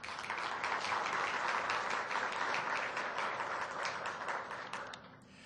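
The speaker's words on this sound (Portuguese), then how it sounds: "para o qual peço uma salva de palmas" Audience at the opening session of a social sciences conference applauds, a steady wash of clapping from a seated crowd that carries on for several seconds before fading at the end.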